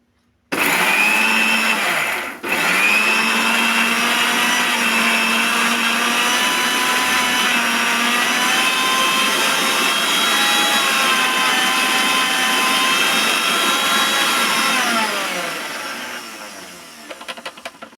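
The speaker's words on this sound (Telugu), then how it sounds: "ఇప్పుడు మిక్సీ చేసుకుంటున్నా అండి" A kitchen mixer grinder whirs loudly and steadily as it grinds fresh curry leaves with salt for curry leaf rice, pausing for a split second early on, then running on before winding down and stopping.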